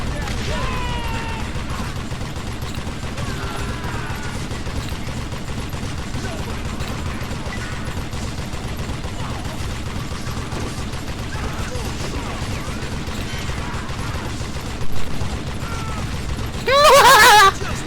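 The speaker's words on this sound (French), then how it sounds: "Elle est juste géniale la Gatling quand elle tire comme ça." Gatling gun firing in the Western shooter Call of Juarez Gunslinger, a continuous loud rattle of rapid shots running the whole stretch with a short sharp burst near the end, with game sounds mixed in.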